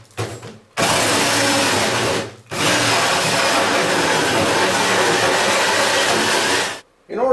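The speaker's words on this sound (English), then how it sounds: "I'm just going to go ahead and use a simple hole saw and cut this in" Hole saw cutting through a plywood sink cabinet panel, a steady loud grinding whir with two short pauses before it stops near the end.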